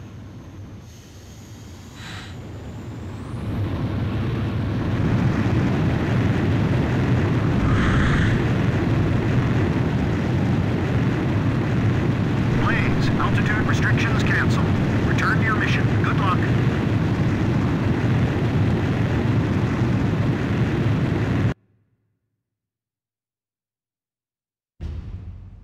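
A fighter jet in Ace Combat 5 spools up and roars down the runway, a loud sustained engine rumble building after a few seconds, with faint radio chatter over it, before cutting to silence.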